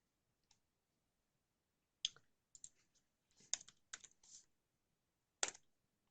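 Computer keyboard keys typed in short bursts of crisp clicks with pauses between, close and alone in a quiet room.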